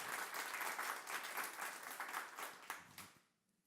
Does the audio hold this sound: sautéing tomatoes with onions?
no